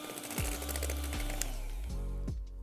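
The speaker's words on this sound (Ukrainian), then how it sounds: "На мінімальних обертах перемішую до однорідності." A steady motorized whir runs throughout with a low humming drone and faint rattling, an electric mixer on low speed mixing batter with eggs.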